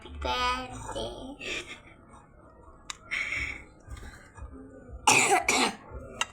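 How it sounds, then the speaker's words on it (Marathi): A few short coughs and throat sounds mixed with quiet speech, ending in a louder burst of coughing near the close. "माझ्या बहिणीला खोकला आला आहे"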